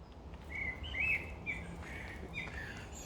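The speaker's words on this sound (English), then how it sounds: "Hear them birds there." Birds call on an evening walk, a few thin chirps and short tweets at moderate distance over a quiet, hissy outdoor background with no voices.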